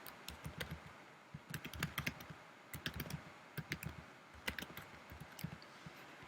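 Typing on a computer keyboard, close and clear, with irregular bursts of key clicks separated by brief pauses, alone without talk.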